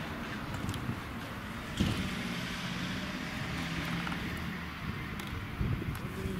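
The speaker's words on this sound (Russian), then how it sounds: "Автобус." A bus rolls past on a street near a station, a steady broadband road rumble with a few brief clanks and knocks, fairly close and without voices.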